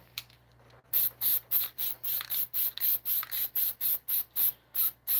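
One Shot case lube sprays onto brass rifle cases in a steady run of about fifteen short, hissing aerosol bursts with an even rhythm, close and alone.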